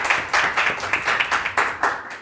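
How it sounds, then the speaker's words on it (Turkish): Studio audience on a Turkish cooking competition show applauds contestant Hülya at the end of a finale week, a steady burst of many hands clapping close by for a couple of seconds. "Hülya'yı da bir alkış"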